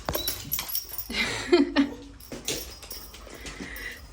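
A dog whimpers and whines in short, high, eager bursts, fairly close, with some rustling movement around it.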